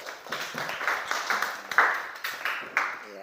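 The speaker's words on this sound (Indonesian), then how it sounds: "tepuk tangan" Classroom applause: a short burst of many hands clapping in quick, uneven rhythm, fairly close and moderately loud, with no talk over it.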